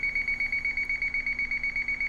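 An alarm on industrial control system hardware sounds as a steady, loud, high-pitched electronic tone pulsing rapidly and evenly, with no talk.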